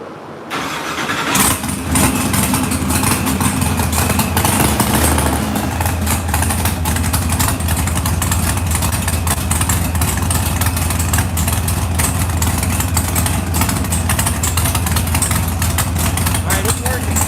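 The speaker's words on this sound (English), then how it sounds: "go ahead and crank it up" An engine on a dyno cranks and catches, then settles into a loud, steady idle that runs on close by for more than fifteen seconds.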